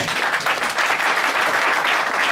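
Church congregation applauding, a loud, continuous wash of clapping hands from many people filling the whole moment without pause.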